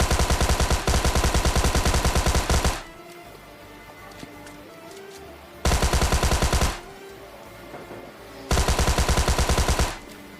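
Automatic gunfire in the mobile battle royale game PUBG Mobile Lite, three loud sustained bursts of rapid shots separated by quieter stretches of in-game ambience.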